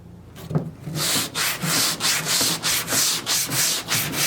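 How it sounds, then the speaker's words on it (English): Round sanding block with a flexible edge rubbed across a concave panel, giving a steady run of about a dozen rhythmic abrasive strokes, close and fairly loud, with no talk. "So as I sand across this panel"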